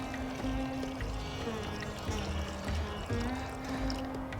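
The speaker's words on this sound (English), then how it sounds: "we're going to add some water and boil it up for our instant mashed potatoes" Water pours steadily into a camping pot for instant mashed potatoes, a soft continuous trickling close by, with no voices.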